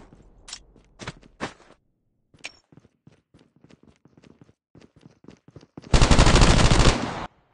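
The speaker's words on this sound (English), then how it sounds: "I check the direction of the shots again" Gunfire in the Call of Duty Mobile video game: a few sharp single shots early, scattered quieter pops, then a dense, loud sustained burst of automatic fire near the end, with no talking.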